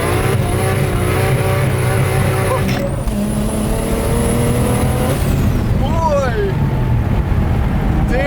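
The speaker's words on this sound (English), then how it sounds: "Damn, Adrian, your car fucking rips, dude." A modified car's engine roars loudly and continuously, holding steady high revs before the pitch sweeps and shifts, with excited voices over the engine noise.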